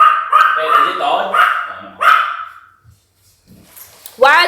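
Dogs bark and yip indoors in a run of loud, close, sharp barks, followed by a quiet pause and a final high yelp, with a person talking nearby.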